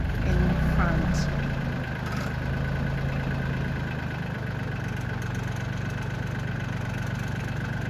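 A tractor engine runs at a steady idle-like drone while stones are being moved at an old stone house renovation in Portugal, a continuous mid-low rumble throughout.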